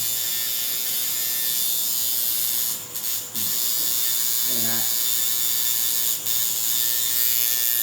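A 1990s tattoo machine runs with a steady loud close buzz and mechanical rattle, with a few short bumps and clicks breaking the drone; no speech.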